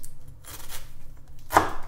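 A knife chops two small onions on a cutting board in a home cook-along kitchen. A few sparse, dull cuts fall at an unhurried pace, and a louder, crisp chop lands near the end.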